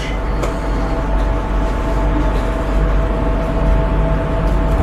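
Steady rumble of a Jakarta metro train in motion heading to Bundaran HI station, a continuous low roar with faint rattles and a faint tonal hum, no voices.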